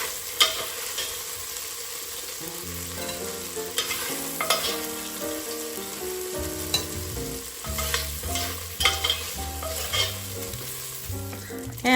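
Chicken pieces fry in a pan as the first step of a Southern chicken and sausage jambalaya, giving a steady, close sizzle with repeated stirring and scraping throughout and a faint tonal background underneath.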